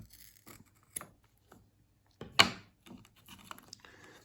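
Scissors or a blade slice through a strap template of sheet material for a Nike Mag strap modification, with a few faint close snips and scrapes and one sharp louder cut midway, no talking.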